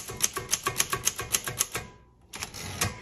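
Keys strike on a 1956 Underwood Universal typewriter in a quick, even run of sharp clacks, close and crisp, then a brief pause before a few more strokes.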